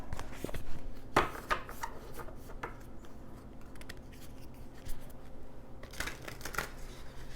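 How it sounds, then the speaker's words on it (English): Oracle cards being shuffled and pulled make soft, close riffling and dry slapping sounds, with a few sharper snaps scattered among quieter rustling and no voices. "I'm going to pull a couple of oracle cards and then we'll close."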